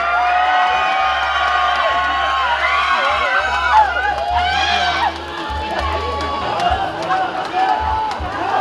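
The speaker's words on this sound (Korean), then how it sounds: "한 번 더 여러분들 따뜻한 박수로 맞주시면 고맙겠습니다." Festival crowd at the Mungyeong Omija Festival cheering and shouting in a steady, loud roar, with rhythmic low thumping underneath and voices calling out throughout.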